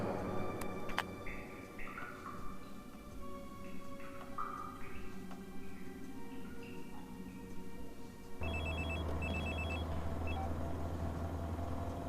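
A telephone rings in a tense scene in a dubbed action film, a steady electronic ringtone entering partway through over a low rumbling background and earlier scattered tones, with no voices heard.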